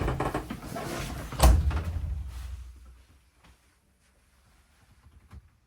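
A wardrobe door in a 2017 Gulf Stream B Touring Cruiser Class B+ motorhome swings open with a low rumbling slide and a firm thump, fading over a few seconds, followed by a faint click in near silence.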